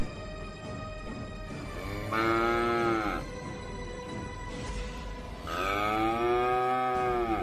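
A cow lets out two long, loud moos close by, each lasting about a second or two and separated by a pause, over a quiet background.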